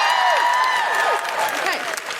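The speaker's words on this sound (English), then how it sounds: "Big round of applause for Jill, everybody." A live comedy podcast audience gives Jill a big round of applause, loud close clapping with whoops and cheers rising and falling over a couple of seconds.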